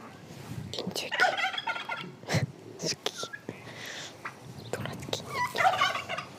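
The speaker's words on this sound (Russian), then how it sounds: "Смотри, какие индюки." Several turkeys gobble repeatedly in bursts outdoors along a southern path, loud and close, with scattered rustling between calls.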